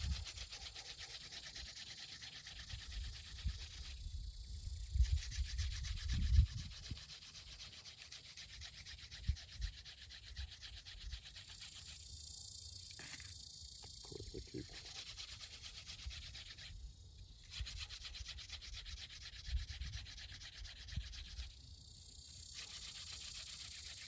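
Wood rubbed against wood to start a friction fire in the desert, a steady close scratchy grinding that runs on and on with small surges, as someone talks over it at times.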